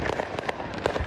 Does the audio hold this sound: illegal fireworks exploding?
yes